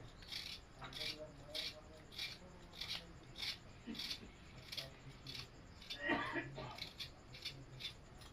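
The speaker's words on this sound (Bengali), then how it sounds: "এখন আমি আলু আঁকে যে ছুলে নেবো এক এক করে আমি সব আলু একা ছুলে নেব" Potatoes being peeled one by one with a blade, a series of short, rhythmic scraping strokes about once a second, close and quiet.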